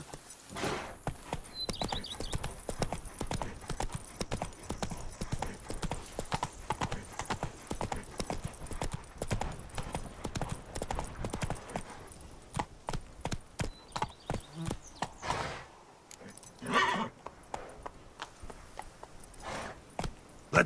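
A horse clip-clops in a steady, quick rhythm throughout a Witcher 3 Blood and Wine game scene, hooves close and clear, briefly slowing near the end with a snort.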